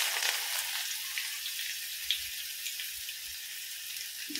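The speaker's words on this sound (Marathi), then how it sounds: "आता हे आपण चांगल्या तेलामध्ये परतून घ्यायचं।" Finely chopped onion frying in hot oil in a pan gives a steady, close hiss of sizzling with faint crackles throughout and no voices.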